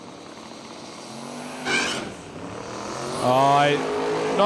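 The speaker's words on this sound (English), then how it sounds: "Puts a bit of heat into those tyres." A drag car, the HT, does a burnout at Willowbank Raceway during a Road Trip Drag Challenge to heat its tyres. The engine rises in two loud revving bursts while a commentator talks over it.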